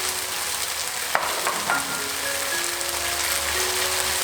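Noodles sizzle and hiss steadily as they are stir-fried in a hot pan with soy sauce and vegetable seasoning, with a single sharp clack of a utensil against the pan early on and no talking.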